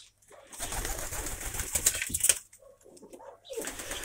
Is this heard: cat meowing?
no